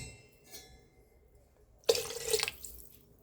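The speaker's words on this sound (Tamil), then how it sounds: "இதில் வந்து தண்ணி ஊற்றிக்குவோம்." Water pours into a cooking pot over sautéed ingredients for rice and dal, a short close splash lasting about half a second after near silence.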